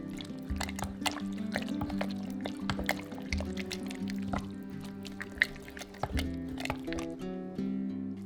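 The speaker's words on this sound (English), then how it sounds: "Then add in 3 large eggs and stir together." Three large eggs being stirred into fruit cake batter with ground almonds: thick, wet squelching and sticky slapping in a steady rhythm, close and fairly quiet, with a few clinks against the bowl.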